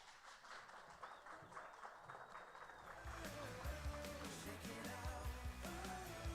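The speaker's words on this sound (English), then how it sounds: "I thought they were clapping for me." An audience at a Future of Food conference applauds to welcome two speakers onto the stage. The applause is a soft, distant wash of clapping and cheering at first, then a voice begins speaking over the fading crowd.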